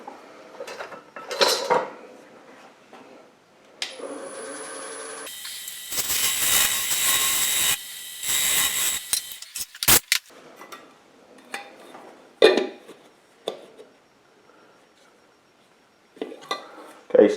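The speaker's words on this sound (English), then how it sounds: "I'm going to switch to a carbide cutter, and it'll help me remove that a little bit faster." A wood lathe turns a chip-and-dip nut bowl while a carbide cutter bites in, giving a loud sustained cutting roar midway, framed by scattered clattering, tool knocks and quieter gaps.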